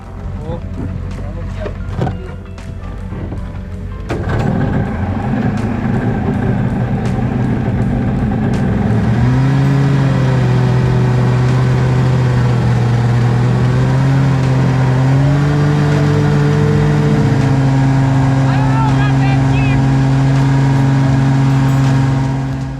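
A jet jon boat powered by a snowmobile engine runs on the water with a loud, steady engine drone whose pitch climbs in steps as it speeds up, and a voice is heard over it.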